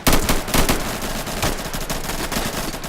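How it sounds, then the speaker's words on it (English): Gunfire in the video game Insurgency, a rapid automatic burst followed by scattered loud shots and echoing reports, with no talking. "We got a lot of gunfire going on."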